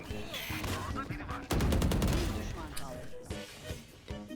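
Gunfire from a Valorant match: a loud burst of rapid shots around the middle, with scattered shots and game effects before and after, while someone talks over much of it.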